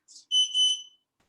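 A yoga interval timer sounds a short electronic alarm, a quick chirp then a high, two-part beep lasting under a second, sharp and clear in quiet surroundings.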